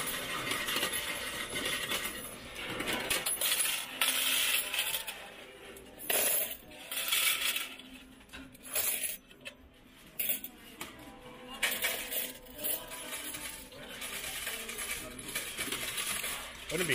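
Coins clatter and jingle into the metal tray of a Las Vegas coin slot machine paying out, a busy run of metallic drops over casino ambience with faint murmuring in the background.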